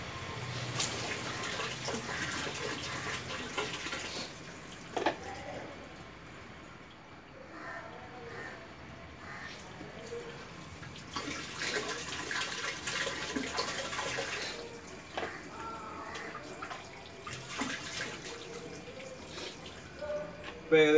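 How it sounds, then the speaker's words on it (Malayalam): Water sloshing and splashing as a container is rinsed and poured while preparing activated EM1 solution, a steady wet rush rising in bursts and easing between them, with background noise throughout. "ഇതൊന്ന് കഴുകിയിട്ട് ഒഴിക്കാം."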